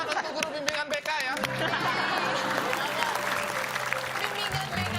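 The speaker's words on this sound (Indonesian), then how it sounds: "Tepuk tangan untuk guru bimbingan BK ya" A studio audience at a comedy show applauds the guidance counselling teacher, sustained clapping mixed with laughter and chatter, with voices talking over it throughout.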